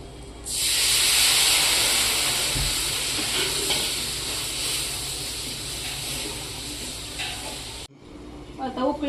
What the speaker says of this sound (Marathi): आता उकळी आली आमटीला